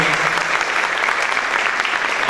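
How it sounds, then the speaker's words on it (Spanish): An audience applauds a panelist at an anniversary panel discussion, with dense, loud and steady clapping from a full crowd across the whole moment. "El aplauso para ti también."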